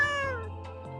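A single drawn-out cat meow, close and fairly loud, its pitch sliding downward and fading, alone without talk.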